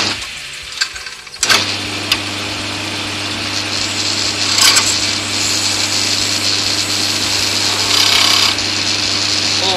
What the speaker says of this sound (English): So very carefully, I'm just going to edge that into a point